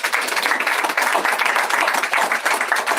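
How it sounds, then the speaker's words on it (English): Steady crowd applause fills a community breakfast hall in Middlesex County, New Jersey, dense continuous clapping at full volume for about three seconds with no voices. "So give yourselves a round of applause for that."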